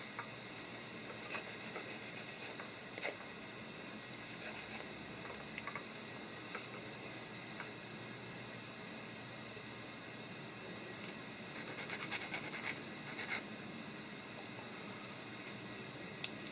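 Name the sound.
sanding small plastic parts of a 1/48 F-16 model kit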